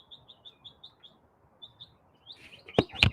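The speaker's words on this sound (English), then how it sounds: "Man, the birds are loud this morning." Birds chirp loudly on a morning, repeated short high tweets and calls in a steady series over faint ambient background, with a couple of sharp louder bursts near the end.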